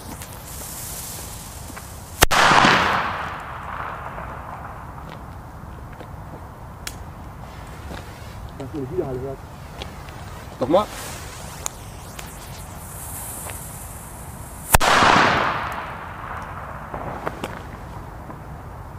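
Two loud sharp Tiger Bomb firecracker bangs go off several seconds apart, each with a brief crackling tail. Quieter pops and a short spoken word fall between them.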